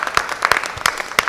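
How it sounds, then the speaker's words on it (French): Audience at a Congolese TV music show clapping hard, a brief burst of dense, uneven applause. "On applaudit très fort."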